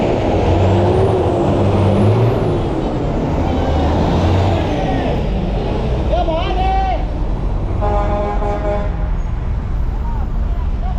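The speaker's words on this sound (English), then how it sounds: "this is like a bus stop here" Traffic rumbles at a busy Guatemalan bus stop where colorful chicken buses idle and pull through at rush hour. Loud engine drone and hiss are broken by short horn toots and brake squeals, and people talk over the noise.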